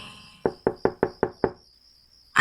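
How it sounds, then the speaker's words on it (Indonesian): Six evenly spaced knocks on a bedroom door in a boarding house at night, close and sharp, followed by quiet and a faint noise at the end. "ada yang mengetuk pintu kamarku"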